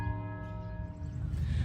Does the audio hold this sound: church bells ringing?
yes